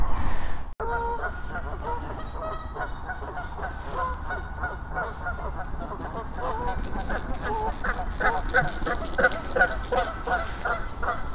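A flock of Canada geese honking loudly and continuously beside a canal, many overlapping calls close by with flapping and commotion throughout.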